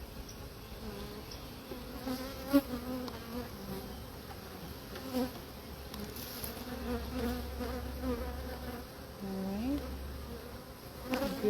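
Honey bees buzz around open hive frames in a continuous, close, droning hum that swells and dips, with many wingbeats overlapping and a single brief spoken word over it.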